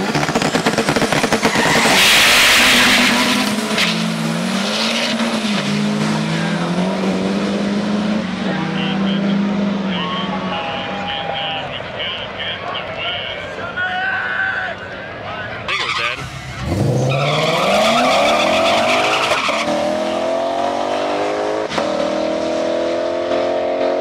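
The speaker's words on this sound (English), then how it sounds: "After that, we got our burnout contest, so let's go see who's fast and get to burning some rubber." Drag race cars doing tire-squealing burnouts at the Ice Cream Cruise 2020 car event: loud, sustained engine roar with wavering, squealing tones that sweep and swell throughout, mixed with crowd noise and people talking.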